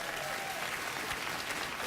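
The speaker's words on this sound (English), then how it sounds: "Anytime the audience starts clapping" A late-night television studio audience claps in a dense, steady burst of applause, loud and continuous for a couple of seconds.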